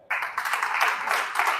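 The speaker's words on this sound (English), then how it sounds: "Clap for OQATA." Audience applause at a live wellness company event, a dense, steady wash of many hands clapping close by for under two seconds with no voices on top.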